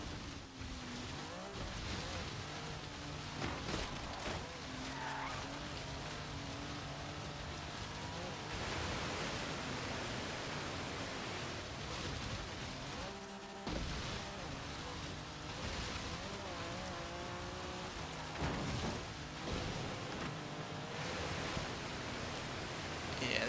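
A 1990 Mercedes-Benz 190E Evolution II in Forza Horizon ploughing through water off-road, a broad hissing splash and rushing wash with a muffled engine beneath, fairly steady and continuous with brief surges.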